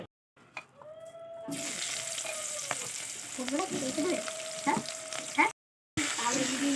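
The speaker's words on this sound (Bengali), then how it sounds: "এই মশলাগুলো হালকা তেলের উপরে হালকা ভেজে নেবো" Light sizzling of spices frying in oil, with soft stirring scrapes and brief clinks; a short gap of silence near the end.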